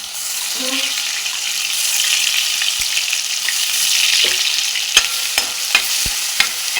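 Crushed ginger and garlic fry in hot oil in a pan, a steady, close hiss of sizzling with a few sharp clinks of a utensil toward the end.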